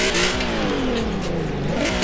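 A Volkswagen Golf 4 GTI engine revs hard in Forza Horizon 4 while drifting, a loud, steady, gritty engine drone with rising and falling pitch that carries through the whole moment.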